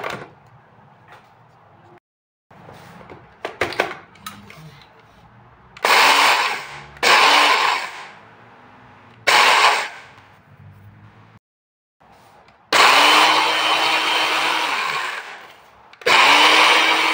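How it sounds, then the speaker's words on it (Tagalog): A small blender grinds roasted rice for rice coffee in repeated loud bursts of a few seconds each, separated by short silences and quieter clatter, the motor whine steady and harsh during each run. "Isalin ko siya dito sa blender na maliit."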